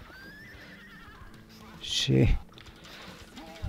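Horse neighing and galloping from the Rastan Saga arcade game, played on a Key Boy Ultra handheld: a loud, brief burst of synthesized neigh and hoofbeats in the middle, with quieter game tones and a voice around it.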